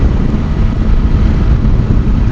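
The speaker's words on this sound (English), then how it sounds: "A little bit of buffeting going on." Steady roaring wind buffeting a motorcycle rider's helmet at about 50 mph on an open road, a loud, dense rush that fills the whole moment without pause.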